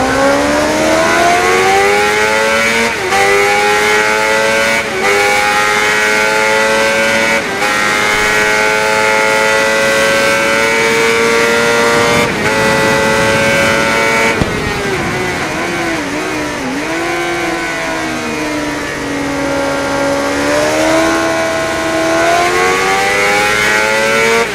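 Kawasaki Z750 naked motorcycle with an inline-four engine, ridden in the RIDE racing game, revs loudly and steadily throughout, the pitch climbing through repeated gear changes with brief dips between shifts, continuous and close with no talk.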